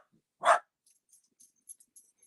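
A dog lets out a single short, sharp bark nearby, followed by quiet, faint ticking and shuffling sounds in an otherwise silent room.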